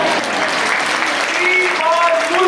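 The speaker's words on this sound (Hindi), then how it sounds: "ये तालियां छोटी हैं" Congregation at a Hindi-language sermon applauding with steady, dense clapping throughout, while a preacher's voice rises over the applause.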